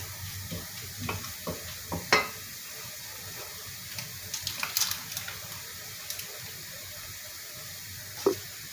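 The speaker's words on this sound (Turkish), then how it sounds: "şehriyesi ayrı olmasın diye kıvamlı olsun diye biraz unumu da kavurayım kokusu çıkana kadar" Flour stirred and roasted in a pan for a vermicelli soup gives off a faint, steady sizzle, broken by scattered scrapes and taps of the utensil against the pan, with no talking.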